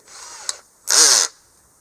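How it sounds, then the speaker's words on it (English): A single short burst of a power drill whirring at high speed, drilling a hole in the center of a car headlight, loud and close, with a quiet room before and after. "I'm just going to drill a hole right in the center."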